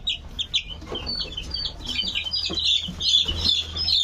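Chickens on a small poultry farm clucking and chirping in a busy, overlapping chorus, close and fairly loud, with no talk over them.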